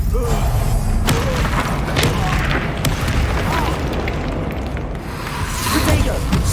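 Stupefy spell impacts in Hogwarts Legacy combat land as heavy booms and thuds within a dense, loud, continuous mix of spell effects.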